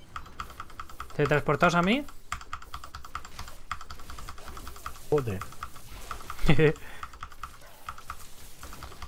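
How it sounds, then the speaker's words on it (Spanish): Rapid clicking on a computer keyboard runs steadily under a gaming session, with someone speaking briefly over the constant patter of keys. "¿Eso lo dices por el ruido de mi teclado?"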